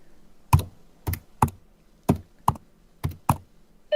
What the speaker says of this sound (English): I love the sound of John typing.